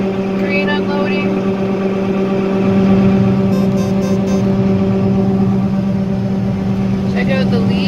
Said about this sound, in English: The truck's empty, so here's our grain unloading